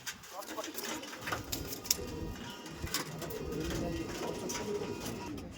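Domestic flying pigeons of the Andhra breed coo in a home loft, soft repeated calls rising and falling steadily over a busy background with people's voices nearby.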